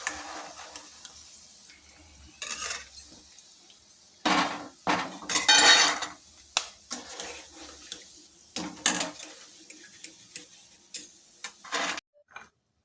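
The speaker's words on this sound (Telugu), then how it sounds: "ఈ గిన్నెలోకి తీసుకున్నాము, బౌల్లోకి." Fried peanut pakodas being moved into a bowl, heard as a series of close clinks and scrapes of a utensil against metal or ceramic dishware, irregular and spaced out with short quiet gaps.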